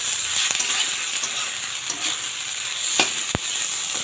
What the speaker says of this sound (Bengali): দিয়ে চালটা ভেজেই নিয়েছি, আর একটু ভেজে নেব।